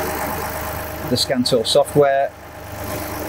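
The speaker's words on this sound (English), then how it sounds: "Okay, so our engine's running." A four-wheel drive vehicle's engine idles with a low, steady running hum, mostly buried under someone talking close by.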